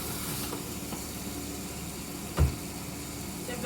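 Homemade hamburgers frying in a pan, a steady close sizzle that runs throughout with a single brief knock partway through, no talk.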